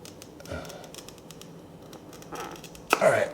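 A glass cutter draws one straight score across window plate glass, heard as a few short scratchy strokes with a sharper, louder rasp near the end, close by and without talk.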